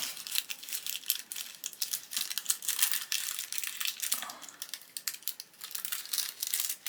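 Paper crinkling and rustling as a colouring book package is unwrapped, close and continuous, with irregular crackly bursts throughout and no talking.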